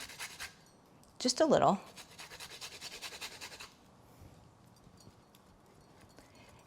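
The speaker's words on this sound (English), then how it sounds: "I'm gonna just grate a tiny bit of ginger on here" Fresh ginger scraped over a grater onto a bowl of yogurt, a short burst of close rasping strokes lasting about a second, with someone speaking briefly around it.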